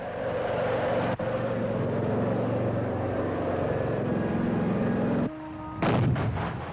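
A long, heavy rumbling roar with continuous low thunder from explosive blasting of a trench across a valley floor, ending in a sudden drop and a final sharp burst.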